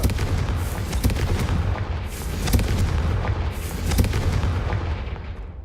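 Confringo blasting spells in the video game Hogwarts Legacy set off a rapid run of booming explosions and sharp cracks, loud and close, rolling into each other with a dense rumble underneath.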